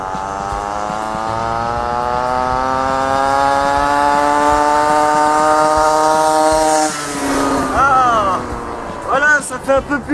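A tuned pocket cross bike fitted with a red racing ignition revs up, its buzzing two-stroke engine note climbing steadily and loudly before cutting back to short revving blips, with people talking underneath.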